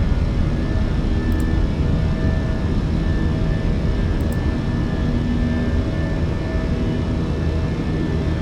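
An Airbus A320 with IAE engines climbs after takeoff in Flight Simulator 2020. A steady, loud, broadband engine roar with a faint tonal whine continues unchanged throughout, with two tiny high ticks.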